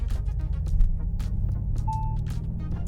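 A new electric Ford Mustang Mach-E accelerates hard, heard from inside as a steady, loud low rumble and hum, with a short electronic beep tone partway through.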